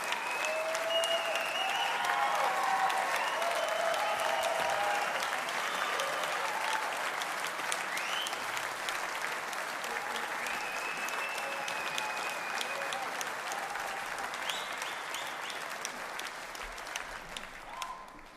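Sustained, dense applause from a concert audience at the Edison Jazz/World Awards, steady and enthusiastic clapping that slowly tapers toward the end, with a few shouts mixed in.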